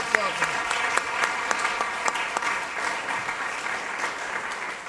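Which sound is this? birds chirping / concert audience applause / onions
concert audience applause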